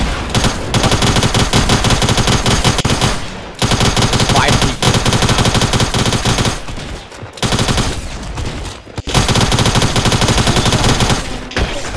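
Rapid bursts of tactical SMG fire from several weapons at once in Fortnite, near and loud, with long sustained rattling stretches broken by brief pauses.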